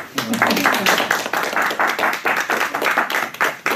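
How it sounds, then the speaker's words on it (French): A group of people applauding at a local association meeting, a close, brisk burst of hand claps lasting a few seconds. "Alors on applaudit pour lui."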